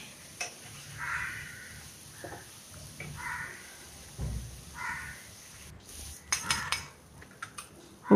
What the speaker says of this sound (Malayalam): ഉപ്പ് ചേർത്ത് നമുക്കിത് നല്ലതുപോലെ ഒന്ന് വഴറ്റിയെടുക്കാം.